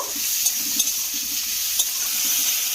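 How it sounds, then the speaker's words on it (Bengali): Cut potato pieces get stirred into a sattu mixture, soft scraping strokes repeating at an easy rhythm over a steady background hiss, close and moderately quiet. "এই আলুটাকে আমি দিয়ে দেব, দিয়ে খুব ভালো করে এইভাবে মিশিয়ে নেব।"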